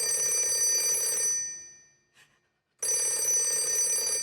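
A telephone's electric bell rings loudly and continuously, fades out briefly into near silence, then starts ringing again just as insistently.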